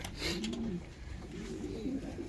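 Soft, low pigeon coos repeat a few times up close in a coop, with faint rustling and shuffling in the background.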